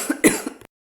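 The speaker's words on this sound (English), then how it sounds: "I had a bit of a cough." A person gives a short burst of two or three close, harsh coughs, then silence.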